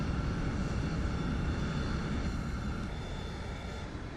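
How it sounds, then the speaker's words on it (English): Aircraft engines run down in the FSX Flight Simulator video game, a dense, steady roar that fades gradually and evenly over a few seconds, with no talking. "What we'll do now is we'll shut down our engines."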